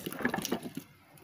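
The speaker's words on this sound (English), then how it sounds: "water boil up now, so I'm going to throw in the pumpkin and the carrot" Chunks of pumpkin and carrot are tossed into a pot of boiling water, making a quick cluster of splashes and plops that fade into a low simmer.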